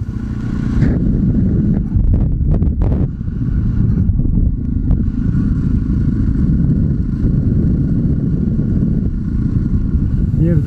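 Enduro motorcycle engine running after a push start on a trail tour near Lake Baikal, a loud steady roar with wind buffeting the microphone, continuous for the whole stretch.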